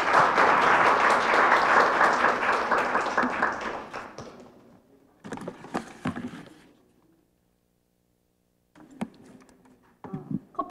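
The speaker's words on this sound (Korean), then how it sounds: "박수 한번 부탁드립니다" An audience at a Korean forum on work-family balance gives loud, dense applause that holds for about four seconds and then thins out. A few scattered claps and small handling noises follow, separated by near silence.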